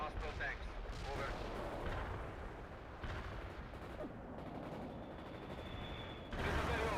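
Artillery barrage in the World in Conflict real-time strategy game, a run of heavy booming blasts and rumbling impacts rolling over several seconds with dense explosive texture.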